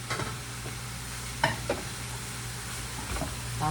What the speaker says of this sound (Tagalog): Yang ihalo ko sa tawgi para malasa talaga.